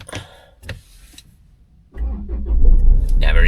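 A Range Rover with the 2.2 engine cranks and fires up after a couple of sharp clicks and knocks, then settles into a loud, steady idle up close.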